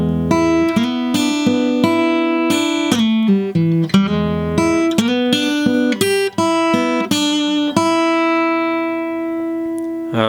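Guitar playing two classic blues licks back to back, a quick run of picked and bent notes with sliding phrases that ends on a ringing sustained note, played solo and clearly up close.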